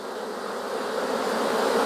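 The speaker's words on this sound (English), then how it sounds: "Lots and lots of bees." Honey bees buzz densely in an open hive box packed with brood, pollen and honey, a steady close swarm drone that holds evenly throughout with no talking.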